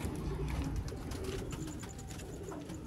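Chuhay kabootar pigeons of the Sialkoti breed coo softly and steadily at a moderate distance, with a low, continuous background rumble underneath.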